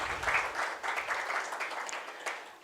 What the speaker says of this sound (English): let's give a round of applause for them to come on the stage